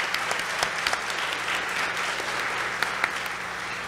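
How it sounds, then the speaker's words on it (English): A round of applause from the audience at a Women @ Wentworth 2018 ceremony, steady clapping from a moderately distant crowd with a few sharper claps standing out. "Let's give them a big round of applause."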